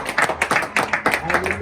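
A church congregation claps in a steady rhythmic beat, roughly five claps per second, while voices call out and sing along over the clapping.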